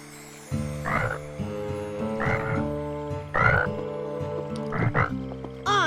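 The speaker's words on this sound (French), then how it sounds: "Peut-être qu'il coasse parce qu'il est jeune et ça lui passera avec l'âge." A cartoon frog croaks at nightfall, four or five loud, close croaks spaced about a second apart over a steady tonal background.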